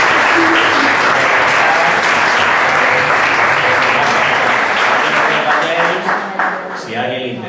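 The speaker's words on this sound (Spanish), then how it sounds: "Vamos a despedirlo con una ovación" An audience at a lecture on the International Brigades gives a loud, sustained ovation of dense clapping that thins and fades toward the end.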